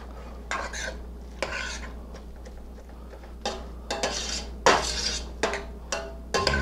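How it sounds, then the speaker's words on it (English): Metal spoon scraping and pressing through browning ground meat in a pan for Bolognese sauce, irregular clattering scrapes and pushes at close range over a low steady hum, no talking. "if you have any large lumps with the back of the spoon, just press down and pull back like that"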